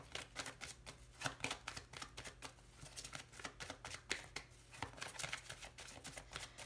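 Tarot cards being shuffled close up: rapid, crisp riffling flicks and slaps, fairly quiet and continuous with no talking.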